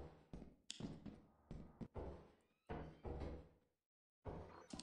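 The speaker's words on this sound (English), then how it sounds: "Did I just hear a door?" A door opens or shuts in the video game Lethal Company, heard as a few dull thunks and knocks in a dark, sparse space, spread out with a short silent gap near the end.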